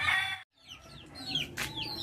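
Native chickens raised on azolla feed cluck on a farm, several short close clucks and chirpy calls in quick irregular succession with a brief pause between them.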